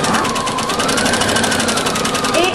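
A sewing machine runs steadily while stitching fabric, with a loud, close, continuous rapid mechanical whirr and a fast even rattle of the needle throughout.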